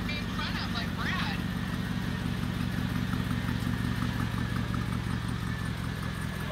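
Mercedes-AMG supercar backing up, its engine a low, steady rumble running throughout alongside a mechanical whir, with excited voices talking over it close by.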